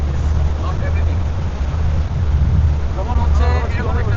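A tour boat on the Rhine near the Rhine Falls gives a low, steady rumble mixed with rushing wind and water noise, while voices talk nearby.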